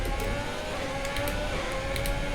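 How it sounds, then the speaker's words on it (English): Ferrari car engine revving in the F1 2020 racing game, a steady mid-pitched drone held at high revs throughout, close and continuous with no talk over it. "Come on, Ferrari engine, do something"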